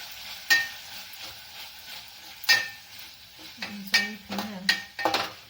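Fenugreek (methi) greens stirred and sizzling in a hot pan with tempering, a steady soft fry broken by several sharp scrapes and clinks of a spoon against the pan, close up.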